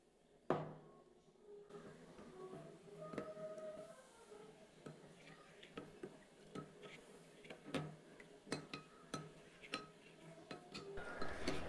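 A spoon stirring custard powder with milk in a small bowl, quiet repeated clinks and taps against the sides forming an uneven rhythm, close by with no talk.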